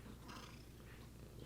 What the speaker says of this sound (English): but he is purring